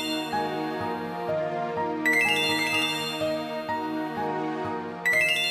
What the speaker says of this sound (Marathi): जय प्लीज फोन उचल, खूप अर्जंट आहे.